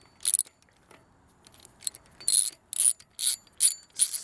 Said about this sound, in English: Then I put the ratchet on the wrong way, but I still gotta have it. And then you just loosen the axle nut.